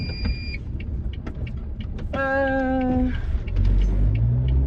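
Steady car interior rumble while driving, a low continuous road and engine drone that swells louder near the end, with a brief tonal chime in the middle and no talk.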